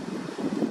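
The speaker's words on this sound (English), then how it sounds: "It's just a little windy out," Low, blustery wind rumbles against the microphone in uneven gusts, brief and fairly quiet, with no voices.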